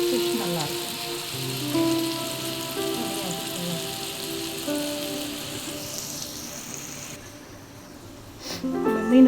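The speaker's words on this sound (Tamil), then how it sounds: "ஃபிஷ்ஷு வறுக்கிறோங்க. இது ஃப்ரை பண்ணியப்போ ஃபிஷ் நல்லாயிருக்கும்." Fish fries in hot oil with a steady, close sizzle and crackle that thins out near the end before a brief louder stir.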